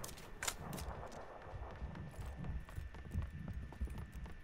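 Footsteps in PUBG (PlayerUnknown's Battlegrounds), a quiet series of irregular thudding steps over low background noise, fairly faint and close.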